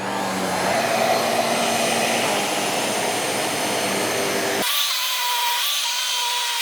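A JIMMY vacuum cleaner with a 9.5-inch head pulls cat hair off a comforter, giving a loud, steady whirring roar up close that shifts to a higher, thinner whine partway through, with no talking.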